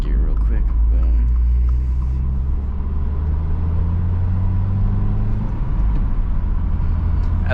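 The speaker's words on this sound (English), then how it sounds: "Let's throw into third gear real quick." A car engine pulls and rumbles steadily after a shift into third gear, a loud low drone filling the cabin with a rising tone.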